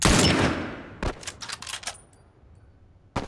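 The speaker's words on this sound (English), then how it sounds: "Wait, where are you shooting?" Gunfire in the video game The Last of Us: a loud opening shot with a long reverberant decay, a cluster of smaller sharp clatters, then another abrupt shot near the end.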